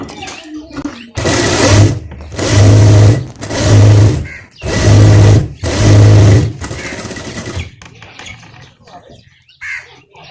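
A sewing machine runs in five loud, near bursts of roughly a second each, separated by short pauses, as a tailor double-stitches a seam on a capri trouser or salwar; faint background sounds fill the gaps between runs.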